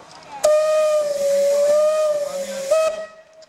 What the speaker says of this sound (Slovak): Možno tá mašinka na tej točni mu teraz pekne zapíská.